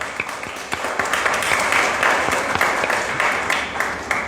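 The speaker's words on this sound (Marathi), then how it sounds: "त्यांच्यासाठी आपल्या सर्वांनी एकदा जोरदार टाळ्या वाजवूया." A gathered audience at a cycling campaign ceremony applauds the cyclists with sustained, fairly loud clapping that swells and holds, individual sharp claps audible within the dense wash.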